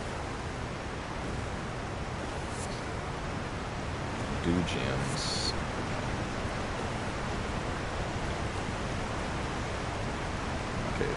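A waterfall in the Elden Ring Shadow of the Erdtree video game gives a constant, loud, broadband rushing roar that runs unbroken throughout, with a brief spoken phrase over it midway.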